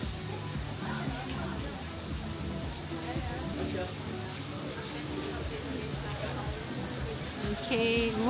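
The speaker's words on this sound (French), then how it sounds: "J'espère que ça va s'arrêter de pleuvoir par contre" Steady rain falls on a Vietnamese island, a dense continuous patter of drops on surfaces, loud and unbroken throughout, with brief faint sounds near the end.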